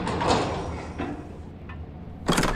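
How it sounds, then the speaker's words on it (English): Door in the horror video game Bewildered being opened and closed: a muffled sliding, scraping movement under low ambient noise, ending in a sharper bump as it shuts. "Bro, stop opening the door!"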